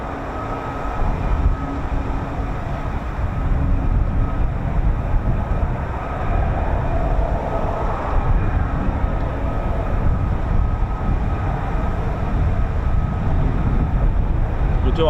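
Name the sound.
F-35B fighter jet engine spooling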